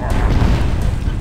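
A tank explodes in the Halo video game with a loud, deep, rumbling boom that fills the whole short moment.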